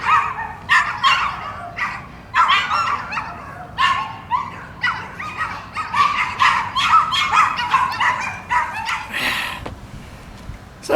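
A dog barks repeatedly in sharp, closely spaced bursts, loud and near, with a few whimpering yips mixed in and no talk over it.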